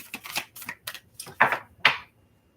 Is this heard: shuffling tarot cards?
yes